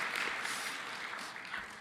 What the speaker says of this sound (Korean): 진짜 박수를 치셨네요